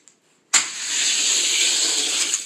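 Video game race cars, a Ferrari 599 GTB against a Porsche Panamera, launch with a sudden loud rush of engine and hissing noise that holds steady for about two seconds after a brief quiet lead-in.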